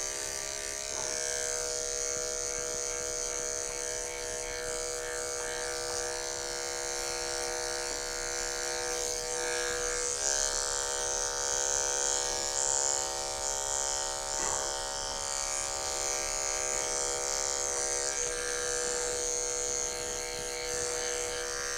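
Electric dog grooming clippers fitted with Andis snap-on combs run steadily for the whole stretch, a close, even buzz cutting through a dog's coat with faint rustling underneath.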